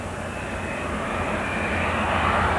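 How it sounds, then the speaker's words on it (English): A Twin Otter propeller aircraft flying in a steady, loud drone that holds evenly and swells slightly toward the end, with no voices. "Darrell returns to the Keybird in a chartered Twin Otter"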